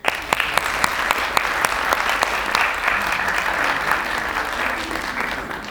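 Audience at an Oxford-style school debate applauds the winning proposition team, a full burst of clapping with sharp individual claps near the front, holding steady and easing slightly toward the end.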